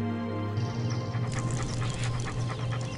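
A dog whimpers and pants close by in a steady, continuous stretch of breathy whining, with no one talking.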